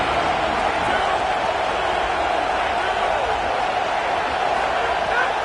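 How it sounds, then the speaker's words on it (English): Roaring home stadium crowd in an NCAA college football video game, a loud continuous wall of cheering that holds throughout, with a commentator talking over it. "how nice is it to have the home crowd going absolutely bananas?"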